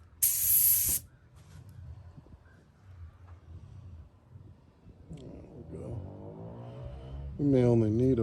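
An airbrush sprays candy paint onto a model car body in one loud hissing burst at the start, followed by quieter background noise, with a person speaking afterward.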